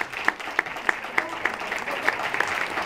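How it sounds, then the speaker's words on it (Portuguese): An audience in Geneva applauds Marco Antônio Miranda, a steady wash of clapping with a few sharper individual claps standing out at a regular rhythm, continuing throughout. "E eu gostaria que nós aplaudíssemos Marco Antônio Miranda"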